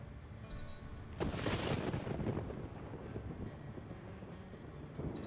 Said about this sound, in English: Uh-oh. Thunderstorm.